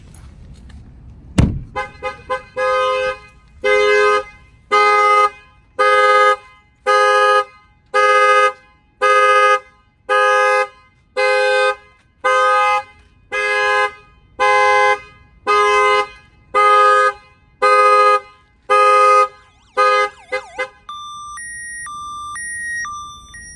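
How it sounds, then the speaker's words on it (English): A Ford truck's alarm blares a loud, repeating honk pattern, about fifteen evenly spaced blasts, then shifts to a rapid electronic beeping tone at the end. "I'm gonna go ahead and fire off the alarm"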